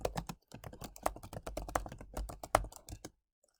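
Rapid clicking of keys on a computer keyboard while a macro is typed in, close and dry, in a steady burst of keystrokes that stops abruptly near the end.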